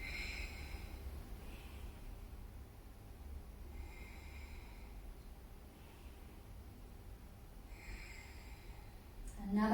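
Slow, steady breaths drawn in and out through the nose during a yoga hold, soft airy exhalations repeating at an unhurried pace, close and faint over low background hiss.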